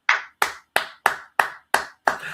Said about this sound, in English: I'm going to give myself a round of applause.